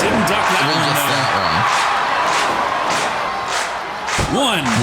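Game crowd in Fire Pro Wrestling World cheering and clapping at a televised-style wrestling match, a steady roar of noise running throughout with commentators talking over it.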